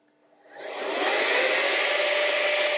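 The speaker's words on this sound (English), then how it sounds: "I have a little fan to put some air through this sensor" A small fan pushes air through a flow sensor on a calibrator, starting from quiet and swelling within a second into a steady, loud rushing whoosh of airflow that holds without a break.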